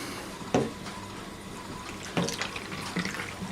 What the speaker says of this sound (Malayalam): ഒരു കുപ്പി വെള്ളം നമ്മൾ ഒഴിച്ചു കൊടുത്തിട്ടുണ്ട്